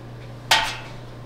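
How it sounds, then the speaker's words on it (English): A single sharp metallic clink rings out as a utensil strikes a pot of Colby cheese curds during slow, gentle stirring. The ring fades quickly, sounds close, and stands alone against a low steady hum. "And it's just a very slow, gentle stir."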